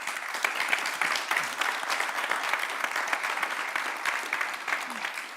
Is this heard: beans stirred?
no